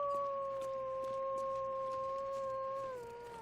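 A wolf howls in The Long Dark, one long steady tone held for several seconds that sinks slightly in pitch at the end, clear over low background hiss.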